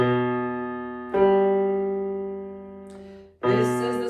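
Two low piano notes, B then G, each struck and left to ring and slowly decay, the second entering near the end; close, clear and alone.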